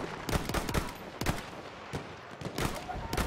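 Gunfire from a machine gun in the video game Battlefield 1, with several sharp bursts of shots at irregular intervals. They are fairly loud against a busy game background.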